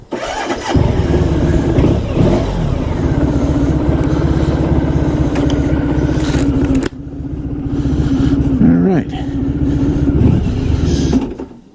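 A 1994 Honda ST1100 Pan European motorcycle engine runs loud and close with a steady mid-pitched drone, briefly dipping partway through before rising again, with no voices.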